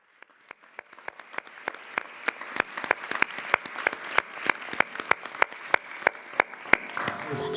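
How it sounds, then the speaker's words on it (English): Audience applause at a Dublin literary celebration event, clapping building and swelling over several seconds with sharp individual claps standing out, close and lively, without any talk over it. "Give her one more big, huge round of applause, please."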